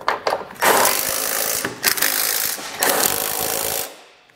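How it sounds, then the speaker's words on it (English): A 14 mm wrench snugs down trailer hitch bolts on a 2018 Subaru Outback Wagon. It makes loud, harsh, rapid rattling in three close bursts over a few seconds, then fades out. "come back with our 14 millimeter and snug everything down"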